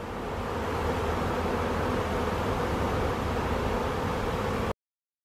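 A honeybee swarm in the air: a dense, even buzzing drone fills the air for nearly five seconds, then cuts off abruptly into silence.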